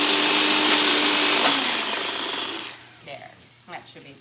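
A Ninja blender with a small blender bottle whipping a cream sauce, loud steady motor whir for about two and a half seconds that winds down, followed by a few quieter clunks and a voice.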